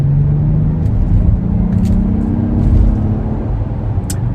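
A 2022 Acura MDX Type S SUV engine accelerates, heard from inside the cabin as a loud, steady low rumble with a rising engine tone and no talking.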